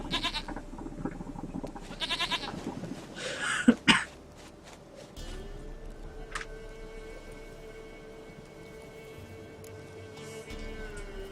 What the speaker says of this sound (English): aquí te he traído tu puta cabra